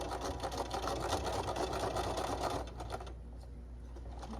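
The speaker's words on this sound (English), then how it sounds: "I'm gonna just sew across these boxed corners, 1/4-inch seam still" A sewing machine stitches across the boxed corners of a fabric trick-or-treat bag, a steady close hum of rapid needle strokes for about two and a half seconds, then slowing to a quieter idle.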